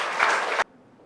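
Wedding guests at a church ceremony clap for the newly married couple Egi and Yuni, a short dense burst of applause that cuts off abruptly after about half a second.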